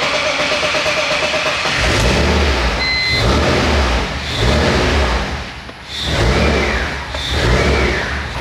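BMW E46 engine running steadily just after starting, a loud broadband drone with several rising and falling revving swells, close to the microphone with no talking.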